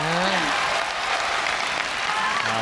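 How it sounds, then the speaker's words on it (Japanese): A packed arena crowd of over 10,000 at Yokohama Arena roars for a women's pro wrestling bout, a loud, dense and unbroken wall of cheering and applause with a voice calling out briefly at the start. "割れんばかりの声援は横浜アリーナ 1万人を超える大感謝"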